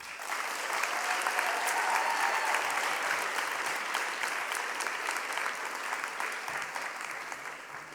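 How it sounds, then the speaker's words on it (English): An audience applauds steadily at a high school senior awards ceremony. The clapping is dense and even, and it fades slightly toward the end. "Let's give them a round of applause."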